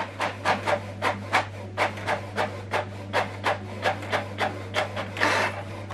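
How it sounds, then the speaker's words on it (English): A Canon printer prints a LAN connection information page, giving a quick run of about fourteen evenly spaced rasping, scraping strokes over a steady low mechanical hum, close and moderately loud. "So now it's printing."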